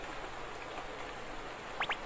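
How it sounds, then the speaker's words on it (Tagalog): Heavy rain pours steadily in a Doraemon cartoon scene, a dense continuous hiss at moderate level with a couple of brief high chirps near the end, no speech. "Sobrang lakas ng ulan."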